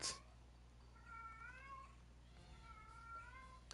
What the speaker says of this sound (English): I have a cat that's just like meowing so much.